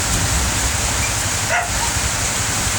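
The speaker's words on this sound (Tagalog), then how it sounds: "sobrang lakas ng ulan guys" Heavy rain pours down steadily in a dense, loud hiss, with a brief faint dog yelp partway through.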